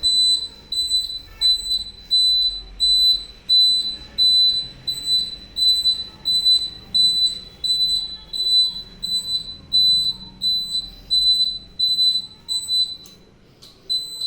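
Turn-indicator beeper on a modified TVS 50 moped chirps in a steady, evenly spaced rhythm of about one beep per second, loud and close with no talking.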